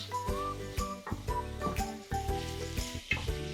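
Meat sauce for spaghetti sizzling in a pan while being stirred and mixed, a soft continuous frying hiss with spoon scrapes, set under faint tonal background music.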